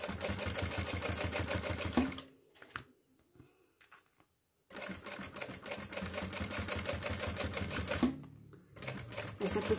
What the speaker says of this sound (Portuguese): eu vou pegar duas camadas de montana e vou fazer um teste na máquina